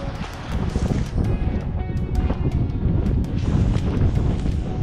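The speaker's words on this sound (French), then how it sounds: "Il y a des creux, il y a du vent." Strong gusting wind and choppy waves roar outside a boat, a constant loud rushing wash with buffeting against the microphone and no talk.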